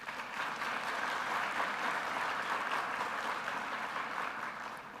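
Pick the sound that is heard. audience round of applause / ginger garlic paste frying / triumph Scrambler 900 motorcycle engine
audience round of applause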